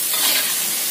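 Carrots and cauliflower sizzle and crackle steadily in a hot pan, a dense bright hiss with faint scraping from stirring, close and fairly loud.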